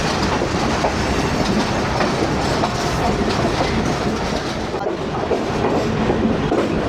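Tezgam 8DN express train running on rails with an old AC sleeper coach, its wheels beating a steady clickety-clack under a loud, continuous rumble heard from inside the carriage, with no talk.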